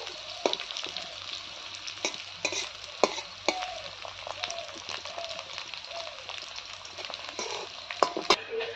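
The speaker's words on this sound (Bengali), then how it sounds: "এই যে মাছ ভাজা করে নিচ্ছি, কাঁচা লঙ্কা পেঁয়াজ দিয়ে মাছের ভাজা খাবে আজকে" Fish frying in a pan with onion and green chillies, a steady close sizzle and crackle with repeated scraping and stirring clatter from a utensil over about nine seconds.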